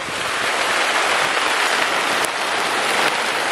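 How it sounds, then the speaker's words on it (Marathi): Heavy monsoon rain pours down in a Konkan village on the eve of Krishna Janmashtami, a dense, loud, unbroken hiss of drops on surfaces close by with no voices. "कारण तुफान पाऊस आहे"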